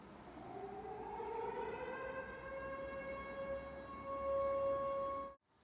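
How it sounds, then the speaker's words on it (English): An air raid siren sits in the background of a music track, its wail rising in pitch before settling into a steady sustained tone that cuts off abruptly at the end. "And then our air raid siren comes back in the background."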